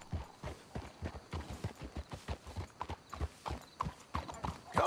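Horse hooves clip-clop in steady, repeated strikes as horses walk in Red Dead Redemption 2, fairly close and moderately loud, with a brief whinny near the end.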